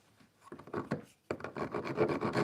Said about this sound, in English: I could run a file over there in a minute to get rid of some of the old rasp marks